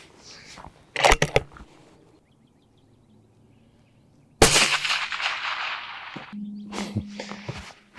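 A suppressed rifle fires at a 500-yard target outdoors, giving two sharp, loud cracks with short decays separated by a quiet pause, followed by faint rustling and handling noises.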